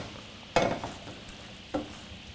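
A spoon scrapes through a sausage mac and cheese mixture in a hot pan, two quick stirring strokes over a faint sizzle.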